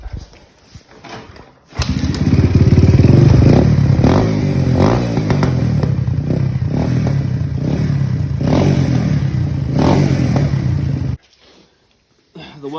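Honda XR200R dirt bike fitted with a cheap debadged CRF230 aftermarket exhaust runs loud and close, its engine pulsing through repeated throttle blips before cutting off abruptly.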